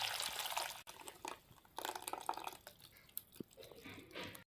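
Ground mango paste pours and drips softly into a kadai, a faint wet sloshing with small splats over a few seconds.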